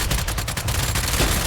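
Gunfire from a weapon in a video game rattles out as a fast, dense burst of loud shots that continues without a break.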